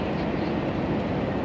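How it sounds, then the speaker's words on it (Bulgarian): A high-speed train passing close by, heard from a truck: a steady, dense broadband roar of wheels and rushing air that holds level for a moment, with no voices. "Минаваме влака стрела."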